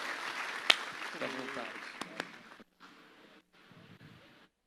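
Church congregation applauding during a sermon service, a steady broadband patter of many hands lasting a couple of seconds beneath a speaking voice, then fading into quieter talk.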